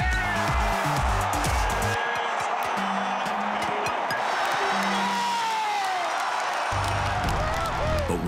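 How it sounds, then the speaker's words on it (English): Duke basketball fans at an ACC men's tournament game cheer in a steady, roaring wash of crowd noise that fills the arena, with a low voice briefly rising over it. "Crowd of Duke fans loves it."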